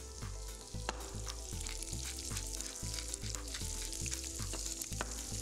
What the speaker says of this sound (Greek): Τώρα ήρθε η ώρα να ρίξουμε μέσα τα σπαράγγια.